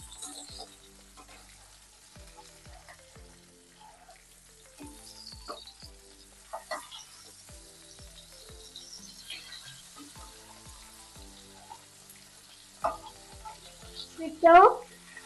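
Pabda fish frying in mustard oil with a dried chilli and black cumin, turned one by one in the pan; a soft steady sizzle with faint stirring clicks and taps, a louder utensil scrape near the end.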